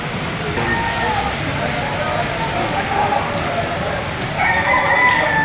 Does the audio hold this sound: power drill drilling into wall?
no